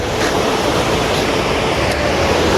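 A river rushes past in a steady, unbroken roar, close and loud throughout, with no voices over it.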